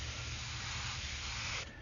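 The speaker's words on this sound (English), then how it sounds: "So I create some distress with the airbrush, these thin lines." An airbrush sprays thin distressing lines, giving a steady, close, continuous hiss of air and paint with no talk, ending in a slight dip just before the clip finishes.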